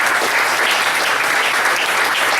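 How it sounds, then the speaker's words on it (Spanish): A church congregation bursts into loud, dense applause at a Christian service, a continuous wash of clapping that fills the room without a break. "Dale un fuerte aplauso al Señor."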